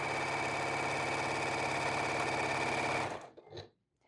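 A sewing machine stitching flannel fabric for a mitered-corner baby blanket, a steady fast mechanical whir running for about three seconds before stopping abruptly, followed by a few faint clicks.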